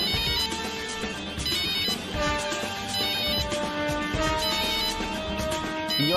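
A melodic phone ringtone plays continuously, its electronic tune repeating loudly and steadily.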